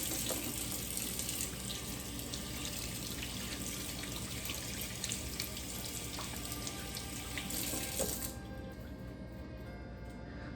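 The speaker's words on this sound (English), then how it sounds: "take off your gloves and wash your fucking hands" Running tap water splashing steadily into a sink while hands are washed with soap, a continuous close rush with small splashes that cuts off abruptly near the end.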